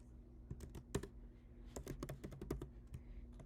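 Rapid, uneven clatter of computer keyboard keys as code is typed, clicks coming in bursts with short pauses, close and fairly quiet, no voice.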